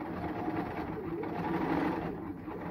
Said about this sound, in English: Now I'm going to do a little row of understitching on the facing side